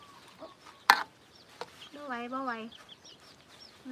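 Chickens cluck and a rooster-like call rises in a short harmonic burst near the middle, heard close in a rural Thai home kitchen setting alongside a sharp knock, with people talking nearby.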